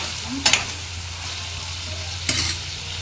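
Brinjal masala fry cooking in a pan, a low steady sizzle broken by two sharp scraping stirs of a spatula, close and alone.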